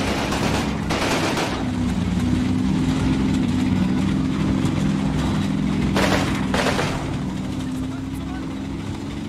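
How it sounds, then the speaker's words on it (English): German machine gun fire in the Combat Mission video game rattles in short bursts, with a steady engine-like drone beneath, while a voice talks over the battle. "I also hear German machine gun fire from down there"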